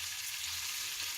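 Leeks frying in a pan for boeuf bourguignon give a steady, bright sizzle that holds at an even level with no voices.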